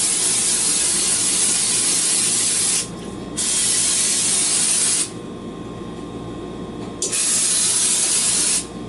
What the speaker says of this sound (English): I'm going to spray the wire rack with nonstick spray